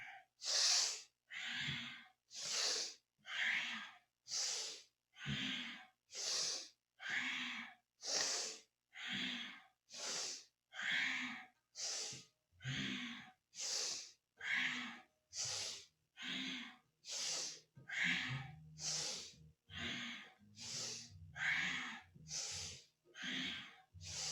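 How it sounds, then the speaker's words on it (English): Rapid, forceful rhythmic breaths during a Kundalini yoga kriya, about one sharp puff per second for the whole stretch, close and loud with no talking. "And continue doing powerful breathing."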